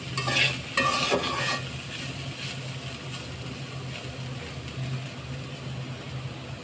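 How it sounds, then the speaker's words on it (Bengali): Vegetables with carrot, potato and sesame seeds fry in a pan with a soft steady sizzle, broken early on by a few scraping stirs of a spatula; no one speaks. "এখন এটা আর একটু ভাজা হবে"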